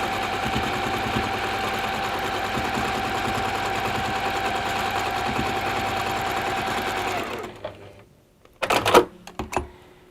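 Sewing machine stitching a quilt border, a fast, steady mechanical whirring run that stops abruptly, followed by a few short clunks and handling knocks.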